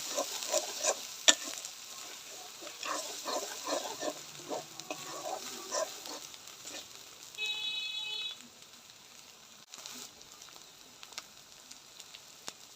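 Chili and coriander powder fry with spices in hot oil for a chicken curry while a spoon stirs them, giving a steady sizzle with scraping strokes that fades toward the end.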